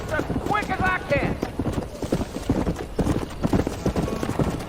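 A horse trots in the video game Red Dead Redemption, a quick steady clip-clop of hooves close by, with a voice briefly heard over it and a short rising tone near the start.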